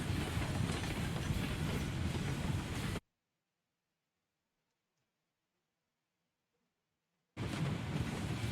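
A train in the video game Railroads Online rumbles and clatters loudly, cuts to silence for about four seconds, then the same heavy rolling noise returns.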